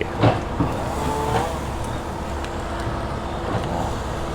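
Tractor clearing trees and roots on a lot being prepared for fill before house construction, a steady engine drone with clanks and rustles, continuous and moderately loud outdoors.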